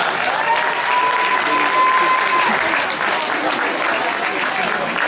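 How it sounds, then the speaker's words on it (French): An audience at an inter-regional competition applauds the referees, a loud steady wash of clapping with a whistle-like tone briefly through it and faint talk underneath. "On peut les applaudir"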